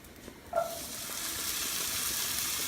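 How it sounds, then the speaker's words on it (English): Beans and garlic in a pan give off a steady frying sizzle that begins with a brief clink and rises into a continuous hiss, close and moderately loud. "Add the beans, season with salt and pepper, cook starting occasionally 3 to 4 minutes until beans begin to break down"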